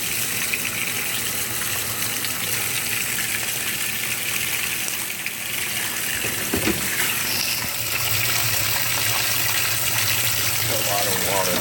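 Water gushes steadily into a GE GTW680BS6JWS top-load washing machine filling on its delicate cycle, a continuous close rushing stream that runs the whole time with brief voices in between.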